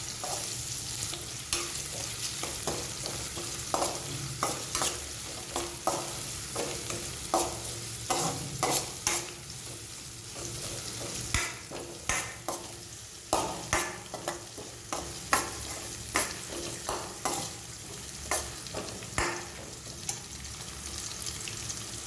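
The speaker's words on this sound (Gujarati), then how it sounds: "ડુંગળી આપણી હળવી પિંક થાય ત્યાં સુધી આપણે આને સાંતળી લઈશું" Onions sautéing in a pan until light pink, for a sambar: a steady close sizzle with repeated spatula scrapes and stirring knocks throughout, no voices.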